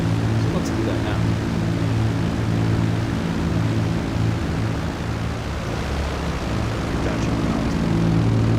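A propeller airplane in GTA V drones steadily as it flies backwards on approach to a runway. A loud, continuous engine hum holds throughout with no clear breaks.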